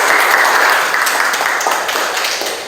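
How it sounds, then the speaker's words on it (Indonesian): A classroom of students claps in a lively burst, loud and close, the dense applause gradually tapering off toward the end. "Tepuk tangan dulu untuk kita semua."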